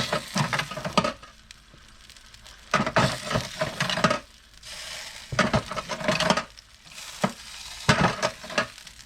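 Hot turkey juices in a roasting pan are scooped with a ladle, giving repeated bursts of sizzling, splashing and scraping against the pan, separated by short quieter pauses, close by.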